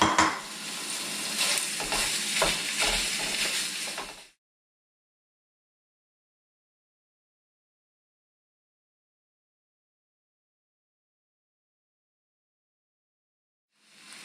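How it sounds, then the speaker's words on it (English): Pork sizzles and fries in a pan while being stirred, a bright crackling hiss with a few clattering knocks of the utensil, lasting about four seconds before silence. "the meat is cooking up pretty good"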